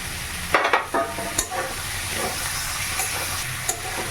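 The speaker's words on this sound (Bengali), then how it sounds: "রসুন বাটা পেঁয়াজ বাটা দিয়ে একটু কষে নিচ্ছি" Garlic paste and onion paste frying in a pan, a steady sizzle and hiss with intermittent scraping stirs and clatters throughout, no voice.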